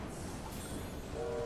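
A train in the video game Assassin's Creed Syndicate gives a steady, dense rumble of rolling rail noise with a faint tonal whine creeping in near the end, continuous and close.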